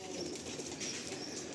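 Pigeons coo softly in low, rolling murmurs under a constant background hiss, the calls faint and blended rather than distinct.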